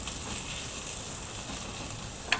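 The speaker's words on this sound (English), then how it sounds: "So just fry the methi leaves and spinach" Methi leaves and spinach fry in a pan for a lamb dhansak curry, giving a steady, even sizzle that holds close and constant, ending in a brief sharp clink.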